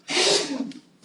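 A single sneeze, a sharp breathy burst that trails off within a second, heard near and alone during a lecture.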